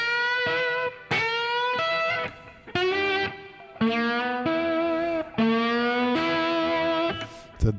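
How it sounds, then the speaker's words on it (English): A heavily distorted electric guitar plays sustained notes and bends in several phrases, loud and close, with a thick, buzzing tone. "on electric guitar, makes it easier if you have more distortion"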